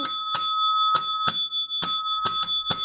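A small bicycle-style bell dings repeatedly in uneven bursts, about nine sharp metallic rings, loud and close with no voices.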